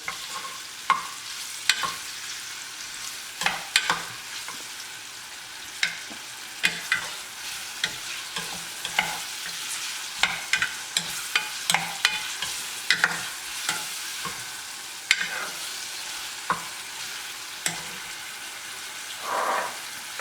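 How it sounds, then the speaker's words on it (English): Sri Lankan green bean curry fries in a pan while a spoon stirs it, giving a soft steady sizzle with repeated close scraping and clacking stirs throughout, with no voices. "Give it a stir."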